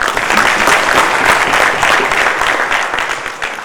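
Applause fills a legislative assembly chamber, a dense, steady wash of clapping from many members that carries on without a break and fades slightly toward the end.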